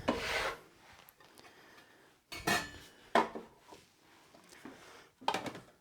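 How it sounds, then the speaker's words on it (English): Knife strokes chopping and scraping food on a cutting board during meal prep, a few separate bursts of clattering cuts spaced apart with quieter gaps between them. "And then we'll just run the knife through."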